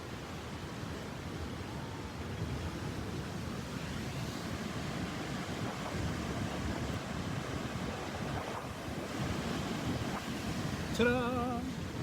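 Ocean waves at sunset wash in a continuous, broad surf roar with gusty wind buffeting the microphone, a brief squeaky sound near the end.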